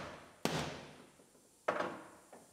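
Two sharp metallic knocks from a small hammer striking buckled sheet metal on a damaged Lexus IS250 quarter panel, about a second apart, each ringing briefly, with a fainter third tap at the end.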